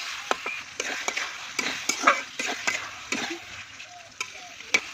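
Liver and jackfruit seeds stir-fried in a pan over a clay stove, with a spatula scraping and clacking at irregular intervals over a constant low sizzle, close by.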